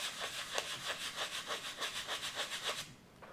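Sanding a bevel into the root of a catapult glider wing, a steady back-and-forth rasp of about a dozen even strokes, close and clear, with no talking, fading out at the end.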